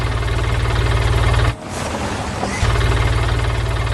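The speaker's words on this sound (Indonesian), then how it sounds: "sebuah forklift kuning mulai beraksi keluar dari lumbung" The steady, loud rumble of a yellow forklift's engine idles close by, briefly dipping and breaking up before the chugging drone resumes.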